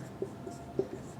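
Marker or chalk writing on a board during a physics lesson, with a few soft scratchy strokes at a quiet level and no talk.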